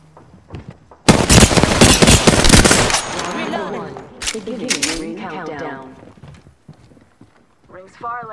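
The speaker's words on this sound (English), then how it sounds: "Shooting." Rapid automatic gunfire from the battle royale shooter Apex Legends bursts in loud and dense for about two seconds, followed by scattered shots and clatter as a voice talks over the action.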